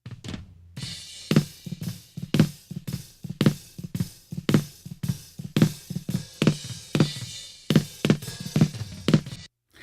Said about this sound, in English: But one thing I tried which really made the snare pop out of the mix was I added a slapback delay to